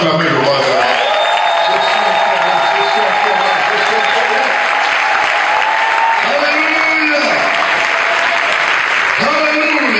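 A church audience bursts into loud, sustained applause and cheering to acclaim the king, dense clapping filling the whole stretch while a preacher's voice rises over the crowd.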